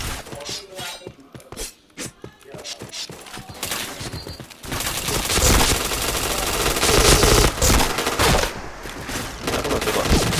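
Gunfire in the online shooter Point Blank: scattered single shots and short bursts at first, then dense sustained automatic fire with sharp impacts and shattering, loud and continuous.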